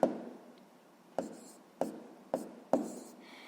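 A pen writes on paper during a sixth-grade maths exercise, making quiet scratching strokes with five distinct taps or strokes spaced about half a second apart over a soft background.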